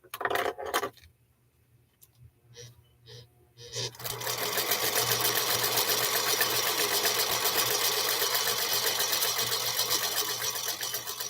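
A few faint clicks and taps, then a Featherweight sewing machine starts up and runs continuously at a fast, even hum until the end.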